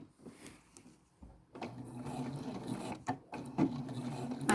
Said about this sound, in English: I'm going to do just a couple of stitches in the ditch.